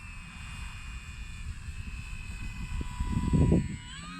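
An E-flite Maule M-7 scale RC model airplane with flaps flies past, its electric motor whine steady and fairly distant, swelling louder briefly near the end as it draws closer.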